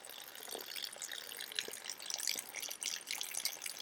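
Tap water runs from an RV faucet into a drinking glass, a steady close splashing and trickling stream with small drips, heard alone without voices.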